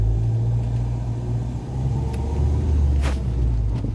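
A Mahindra XUV500 drives on a hill road toward Panpoli Murugan temple, heard from inside as a constant heavy low engine rumble with road noise, steady and loud, with no talk.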